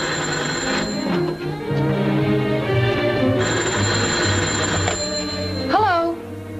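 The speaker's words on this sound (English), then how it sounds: "Is that your phone?" An old telephone bell in a 1942 American comedy drama film rings loud and steady, clear in two long bursts under ongoing background music and voices.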